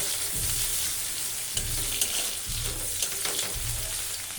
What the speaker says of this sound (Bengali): পেঁয়াজ লাল করে ভাজা হয়ে গেছে